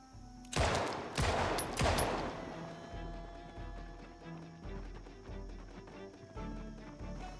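Rapid bursts of MP5 gunfire in the zombie game Project Zomboid, three loud close volleys in quick succession followed by quieter shuffling sounds and low thuds.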